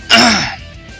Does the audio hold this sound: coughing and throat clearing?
yes